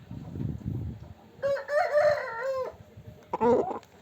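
A rooster crows loudly nearby in a drawn-out call, followed by a second shorter crow, with low clucking and shuffling from chickens before it.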